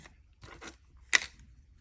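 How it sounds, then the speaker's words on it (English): A few small, crisp snips of tiny scissors trimming excess nail gel, close up, with two soft cuts followed by one sharper clip in a quiet room. "So I use clippers or little mini scissors like these"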